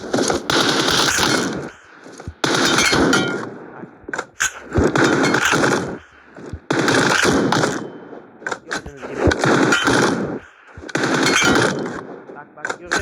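AKM assault rifle fire in PUBG Mobile, loud sustained automatic bursts of about one to two seconds each, repeated several times with short gaps, with a voice talking over parts of it.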